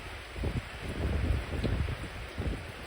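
Outdoor wind buffets the microphone in uneven low gusts, moderately loud, where an alcohol stove fuelled with rum is being made and tried.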